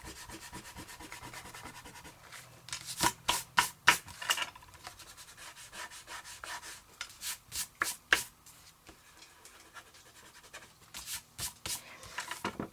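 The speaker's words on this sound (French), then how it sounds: "Je vais gommer l'intérieur aussi." An eraser rubs over a paper accordion card in quick, soft back-and-forth strokes, coming in irregular bursts of short scratchy swipes, close and fairly quiet, with no talking.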